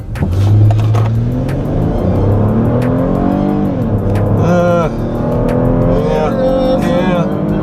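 Lexus RX 350 F-Sport SUV accelerating hard from a standstill toward 60 mph, engine revs climbing loudly and close, with rising tones broken by gear shifts and occasional voices inside.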